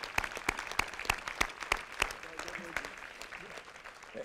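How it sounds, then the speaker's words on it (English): Scattered applause from an audience at a 7th Infantry Division change of command ceremony, with sharp distinct claps standing out over a softer spread of clapping that thins toward the end. "I think we should give the adjutant a round of applause"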